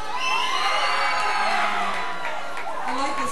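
A concert crowd cheers, whoops and shouts at a show by a band, a dense, loud wall of voices held steady throughout.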